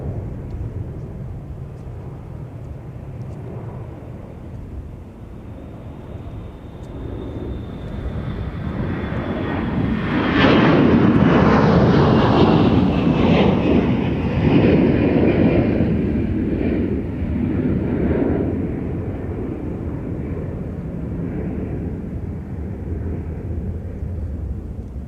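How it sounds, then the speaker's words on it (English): A Delta Airbus A321-200 takes off from runway 30 left, its jet engine roar building from a distant whine to a loud, broad rumble that peaks midway and slowly fades as it climbs away. "we're going to have a departure here off on 30 left, Delta 1442, with an A321-200"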